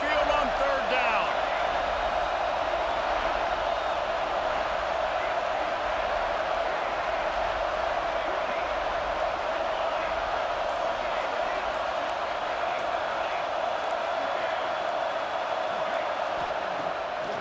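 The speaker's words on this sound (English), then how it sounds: "The Tide crowd rolling noise down onto Saban Field on 3rd down." An Alabama Crimson Tide home crowd at Saban Field in EA Sports College Football 26 roars in a dense, steady wash of stadium noise on a third down, sustained throughout at high volume.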